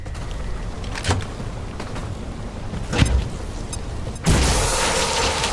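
A frag grenade going off in the XCOM video game, heard as sharp booming bursts near one and three seconds, then a loud sustained roar of blast noise that holds to the end.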